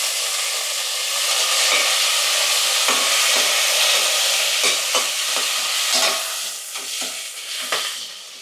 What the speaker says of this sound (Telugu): ఒక రెండు పచ్చిమిర్చి అవి ఫ్రై అవుతుంటే అందులో కొంచెం కడిగి పెట్టుకున్న పుదీనా